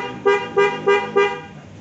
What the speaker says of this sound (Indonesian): Klakson juga hidup.